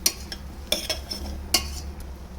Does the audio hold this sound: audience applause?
no